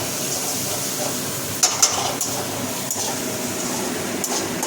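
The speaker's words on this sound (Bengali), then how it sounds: "অল্প একটু জল দিয়েছি এর মধ্যে দিয়ে মশলাটা একটু কষে নেবো" Spice paste for a spicy vegetarian curry frying in a pan with a little water, a steady loud sizzle and hiss with occasional clinks from stirring.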